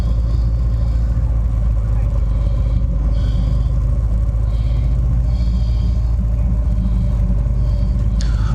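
Caterham SuperSport race car idling and rumbling at the start line of Sepang Circuit, a steady loud low engine drone heard close from the cockpit with faint chatter over the top.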